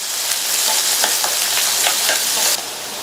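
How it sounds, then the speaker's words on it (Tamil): Onion, green chilli and curry leaves sautéing in hot oil: a loud, dense, steady sizzle up close, with a few faint stirring scrapes and a slight drop in level near the end. "கூடவே கறிவேப்பிலை சேர்த்த வெங்காயம் 1 நிமிஷம் வதங்கட்டும்"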